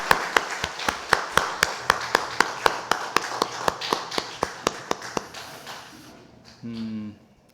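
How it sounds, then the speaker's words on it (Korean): Church congregation at a Sunday worship service clapping in unison, a steady rhythmic series of about twenty sharp claps that stops, followed by a brief tone. "하나님께 영광의 박수 올려드립니다"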